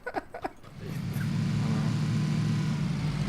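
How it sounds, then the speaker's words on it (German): A car in the PUBG video game pulls away, its engine rising into a loud, steady drone that holds to the end, after a few brief knocks at the start. "Latschen auf der Karre, jetzt fahren wir weg."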